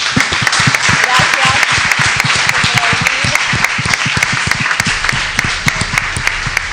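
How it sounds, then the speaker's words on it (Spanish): A church congregation claps at the close of a Sunday service, sustained dense applause lasting the whole stretch with loud sharp claps near the front and a voice occasionally heard over it. "Les damos un aplauso"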